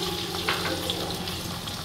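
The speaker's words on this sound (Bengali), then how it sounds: "এখানে আমি 2টো বড় পেঁয়াজ নিয়েছি, সেটা আমি তেলে ছেড়ে দিলাম" Onion paste sizzling in hot oil for a Bengali egg korma: a steady, soft hiss and crackle of frying throughout, close and fairly quiet.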